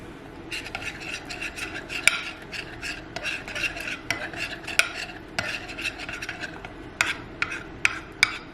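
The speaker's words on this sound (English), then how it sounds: "I'm just gonna add 1 to 3 drops of this and then mix that in." A cosmetic face mask being stirred and mixed in a small dish after a few drops are added, giving steady scraping and clinking of a utensil against the container with sharp taps, close and fairly loud, no talking.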